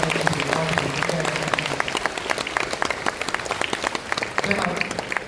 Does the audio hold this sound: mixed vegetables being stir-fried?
no